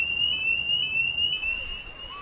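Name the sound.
school building fire alarm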